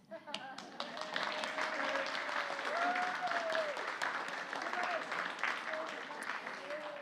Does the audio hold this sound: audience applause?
yes